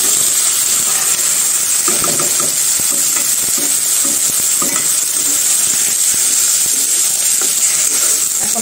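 Washed lentils hit hot oil in a pan, giving a loud, steady sizzle with bursts of stirring and scraping throughout, no voices.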